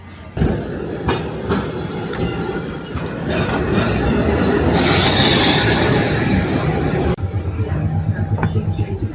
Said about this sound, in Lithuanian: Dabar padarysime tokį mažą turą su tais senais tramvajais.